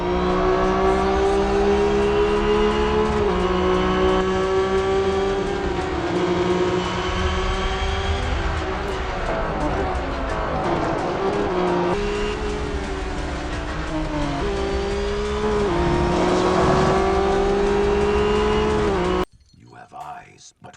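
Racing cars in the video game Real Racing 3 drone with a loud, continuous engine whine that rises and falls as gears shift, with a voice talking over it before the sound cuts out near the end.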